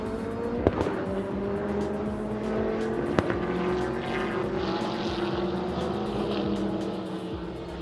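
A TA2 race car at full throttle during qualifying at Sepang International Circuit, its steady engine drone sustained and loud with shifting pitch as it passes, a couple of sharp clicks over the continuous roar.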